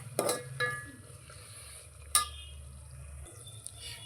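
Egg biryani masala being stirred in a pan, with soft scraping stirs and quiet sizzling plus a few clinks, fairly faint and close.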